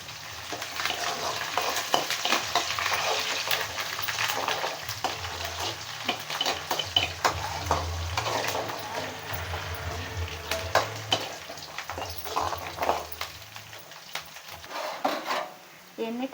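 Ingredients fry in a pan with curry leaves for a fish curry, a continuous close sizzle with repeated scraping and clinking of a spatula stirring against the pan.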